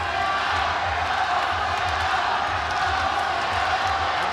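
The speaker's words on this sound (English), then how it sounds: "And this crowd, which is very uncharacteristic in Japan, are cheering for both Hasegawa and Aung San Suu." Crowd at a ONE Championship fight in Japan cheering and roaring continuously, a dense, steady wall of noise with scattered shouts and a commentator talking over it.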